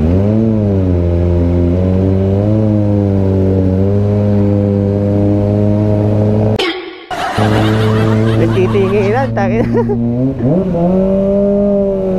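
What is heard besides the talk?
Kawasaki ZX25R motorcycle engine revving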